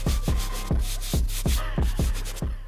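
A brush scrubs the wet white leather of a Travis Scott olive Air Jordan 1 sneaker in gentle, regular strokes, each a short soft swish repeating about twice a second, close and unhurried.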